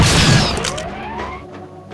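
A pistol fired in sniper mode at a target in the Gunman Chronicles video game: one loud, punchy shot at the very start, decaying into a ringing, whooshing tail that fades over about a second.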